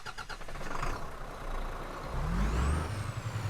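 A heavy Iveco Hi-Way truck engine in Euro Truck Simulator 2 cranks and turns over, a hiss of air releasing, then the motor catches and rumbles low and rising.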